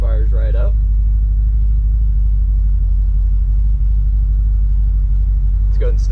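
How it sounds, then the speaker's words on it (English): A 1968 Chevrolet C10 pickup starts up and settles into a loud, steady low rumbling idle, with someone speaking briefly at the start and end over the engine. "You guys can see she fires right up."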